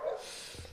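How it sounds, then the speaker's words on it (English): A single short dog bark rings out outdoors at night at a distance, brief and fairly faint against a quiet background. "So now you can hear the dogs going crazy outside."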